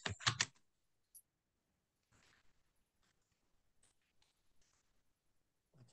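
Short burst of computer keyboard typing at the start, then a few scattered faint key clicks with quiet gaps between them.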